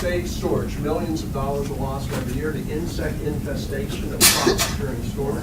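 A brief, abrupt sneeze bursts out in a lecture hall during a plant biotechnology lecture, rising briefly above the lecturer's steady talk.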